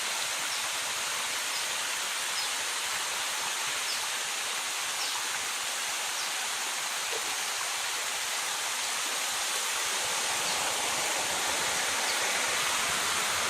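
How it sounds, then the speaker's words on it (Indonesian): A waterfall pours into a natural pool on the Hollat river with a steady, dense rush of water. The roar holds constant throughout, with no voices. "eksotisnya air terjun dan kolam pemandian alam pada kali atau sungai Hoogland"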